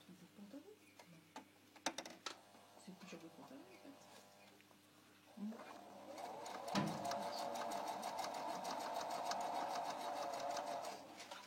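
A sewing machine stitching in a regular zip, a few hand-handling clicks and rustles first, then a steady fast mechanical whirr running close and continuously for several seconds, with faint speech early on.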